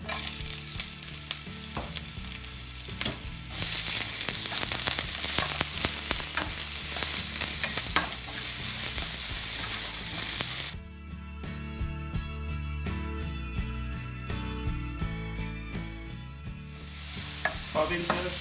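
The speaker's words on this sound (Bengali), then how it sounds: "পেঁয়াজটাকে একটু ভেজে নিব" Onions sizzle loudly in a hot frying pan with oil while a utensil stirs and scrapes repeatedly, the frying fading briefly then surging again near the end.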